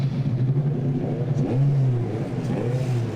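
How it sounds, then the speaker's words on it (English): Mazda race car engines fire up and rev at the Indianapolis Motor Speedway for a Mazda Road to Indy race, loud, close rising and falling engine whines overlapping throughout. "drivers, start your Mazda engines"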